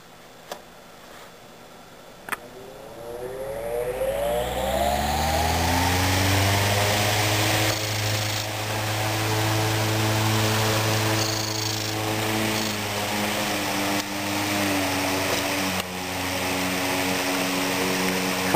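A 1914 Century model 15 12-inch electric fan starts up after a couple of clicks, its motor hum rising in pitch over several seconds and then settling into a loud, steady drone with a faint blade whoosh.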